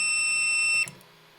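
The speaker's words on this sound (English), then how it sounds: "Despite the terrifying sound of that beep, it is not an error beep." A GeeeTech M1 mini 3D printer sounds a single loud, shrill electronic start beep that holds steadily for most of a second, then cuts off abruptly into quiet machine hum.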